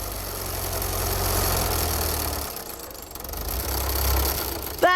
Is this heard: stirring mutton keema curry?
no